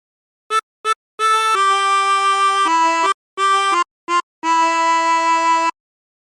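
A 16-hole tremolo harmonica plays a phrase of How Great Thou Art, with short staccato notes and longer held, shimmering tones separated by breaths; close, reedy and clear with no talking.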